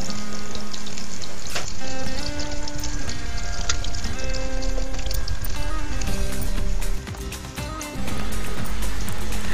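Cardamom, cinnamon and cloves frying in hot oil with mutton for biryani, a loud, steady crackling sizzle close up that runs almost unbroken, briefly dipping near the end.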